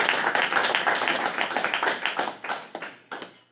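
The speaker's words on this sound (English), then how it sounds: "Another round of applause" Brief applause from an audience at a school board of education meeting, a dense patter of hand claps that starts full and thins into a few scattered claps as it fades out over a few seconds.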